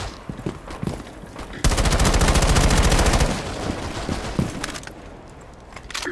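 Rapid automatic gunfire in Rainbow Six Siege on the Yacht map, a dense burst of shots lasting about a second and a half, loud and close, framed by quieter game ambience and scattered footsteps.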